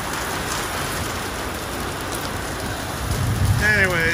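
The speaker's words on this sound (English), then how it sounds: "For those of you that think that it doesn't rain here in Las Vegas, got a little storm going through here." A heavy rainstorm pours down in Las Vegas as a steady, dense hiss of rain on surfaces, with a voice starting up near the end.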